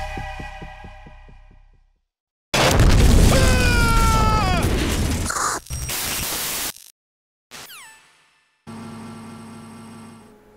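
A sudden loud explosion blast from the Metal Gear Solid 2 video game, with a broad roaring burst that fades, then several shorter static-like bursts of game audio after it.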